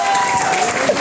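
Audience applause at an Indian stage event, a brief, loud, even patter of many hands clapping, with a voice speaking over it.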